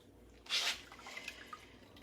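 Batter-dipped chicken drips as it drains over a bowl: one soft, wet splattering drip near the start, then faint scattered droplets falling close by in a quiet kitchen.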